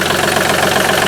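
A John Deere 2032R tractor engine idles close by while warming up with a fuel issue, making a loud, steady, knocking rumble.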